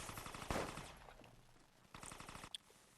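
Rapid machine gun bursts from the Resident Evil Resistance video game, a quick rattling volley at the start followed by a second shorter burst and a sharp single crack near the end, fairly quiet overall.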